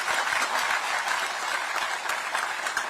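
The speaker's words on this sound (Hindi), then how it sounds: "जोर से ताली बजाइए।" Audience at a public address by the Uttarakhand Governor in Dehradun breaks into dense, continuous applause, many hands clapping loudly and evenly for about three seconds with no voices over it.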